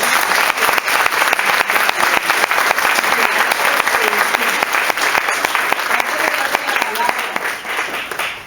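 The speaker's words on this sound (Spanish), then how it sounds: "quiero pedir un aplauso grande, grande, grande, grande para el Cuarteto Cárdago que nos está aquí acompañando" Loud, dense applause from an audience at a book presentation honors the Cuarteto Cárdago, continuous clapping throughout that eases off slightly at the end.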